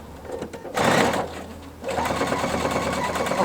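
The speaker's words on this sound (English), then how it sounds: "And then you just start sewing again." A Pfaff sewing machine with a binder attachment stitching binding onto an apron: a brief loud burst of motor hum, a pause, then a steady, close mechanical whir of rapid needle stitching.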